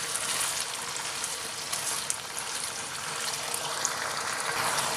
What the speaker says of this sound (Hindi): 6-7 मिनट चिकन को अच्छे से फ्राई कर लेंगे।